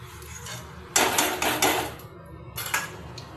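Taro pieces drop into hot oil in a pan, bursting into a loud hiss of frying that fades. A second surge of sizzling follows when more pieces go in.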